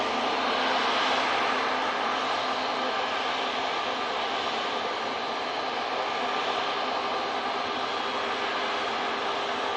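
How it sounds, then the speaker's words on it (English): An Airbus A350 jet lining up on runway 23L at Manchester Airport for departure to Orlando, its engines giving a continuous loud, even roar with a faint steady whine, no voices. "A350 now lining up on 2-3 left for its departure to Orlando"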